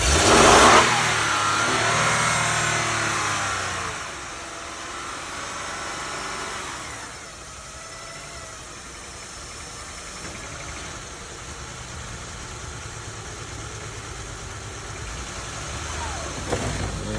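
A Honda vehicle at a city auction, started with a booster box hooked up, cranks and catches, then revs loudly in the opening seconds before settling into a steady mid-pitched idle that runs on under faint background noise.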